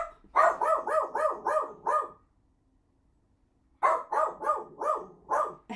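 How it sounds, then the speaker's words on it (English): A dog barks in two quick bursts of about five loud, close barks each, separated by a short silent pause, in a home during a knitting livestream. "Maple's gonna bark at Kay as they come in"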